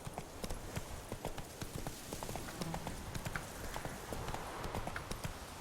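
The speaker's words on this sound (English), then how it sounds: "Whoa there, Roach" Horse hooves gallop in The Witcher 3 video game, a steady, continuous clip-clop rhythm over an outdoor ambience, moderately loud throughout.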